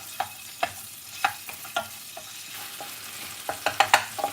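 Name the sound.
ginger garlic paste sizzling in the pan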